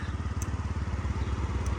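A Yamaha Jog SA36 fuel-injected scooter engine idles close by with a steady, fast, throbbing putter, its pulses even and continuous, with a couple of faint clicks in the background.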